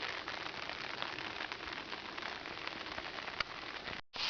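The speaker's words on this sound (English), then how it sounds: "I'm getting rather tired of the rain." Rain falling steadily on a wild campsite on a high plateau in the Vercors, a dense, even patter and hiss throughout with no voices.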